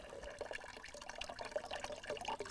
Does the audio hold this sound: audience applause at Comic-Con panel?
no